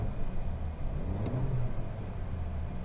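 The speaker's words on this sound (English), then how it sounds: "now I'll give it some revs." A 2025 Toyota 4Runner TRD Sport engine rumbles low and steady, rising briefly in a short rev midway before settling back to idle.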